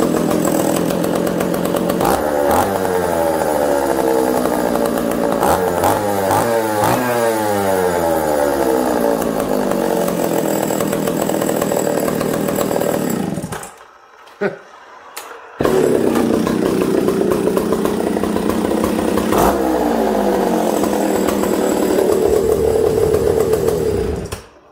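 A John Deere 60V chainsaw, a barn find left sitting for 20 years, runs loud up close with the engine revving up and down. It cuts out briefly, then fires back up and keeps running.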